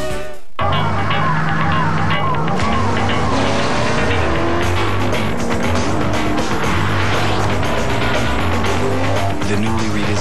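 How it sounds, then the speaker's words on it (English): A 2004 Pontiac Grand Prix with a 260-horsepower engine in a TV commercial, its engine roaring loudly and continuously with revving pitch swings and tire squeal. "The newly redesigned 2004 Pontiac Grand Prix. 260 horsepower to help you get the most out of your ride."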